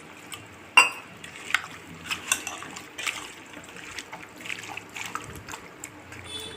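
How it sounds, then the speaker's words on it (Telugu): Water added to a chicken roast cooking in a pan: a brief splash and trickle near the start, followed by scattered clinks and scrapes of a utensil against the pan, close up with no voices. "కొంచెం వాటర్ వేసుకుంటున్నాను."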